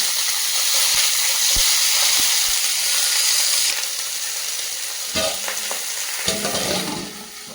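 Small mixed river fish wrapped as paturi fry in a kadai over a low gas flame, giving a steady bright sizzle with a few sharp pops, then softer hissing with scraping and handling noises.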